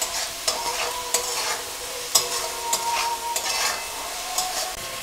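Mixed vegetables stir-fry in a pan with ground black pepper for restaurant-style mixed fried rice, a close steady sizzle broken by sharp, regular scrapes and knocks of the spatula. No one speaks.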